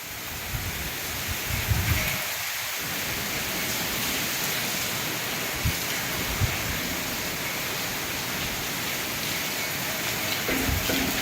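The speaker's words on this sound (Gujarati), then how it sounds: "બહુ વરસાદ છે" Steady heavy rain hisses in a dense, continuous wash, with occasional soft thumps and gusts, fairly faint and with no voices.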